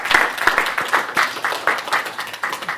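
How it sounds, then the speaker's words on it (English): A small audience at a talk gives a short round of applause, individual claps distinct and fairly close, rising quickly then tapering off. "can we have a round of applause for Jonathan?"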